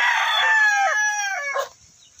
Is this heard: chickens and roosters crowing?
yes